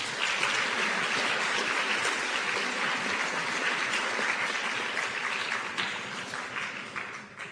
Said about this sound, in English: Let's give our co-sponsors a round of applause.